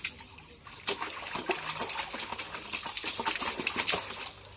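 Bathwater splashing as a child is bathed: irregular close splashes and trickles, some louder slaps of water, continuing steadily.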